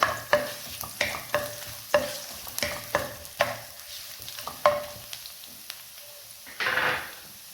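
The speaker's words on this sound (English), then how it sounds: "the garlic, and then the ginger, like this, and stir." Garlic and ginger frying in a pan for fried rice, stirred with a utensil that gives repeated crisp scrapes and clinks over a steady sizzle, close and alone without talk.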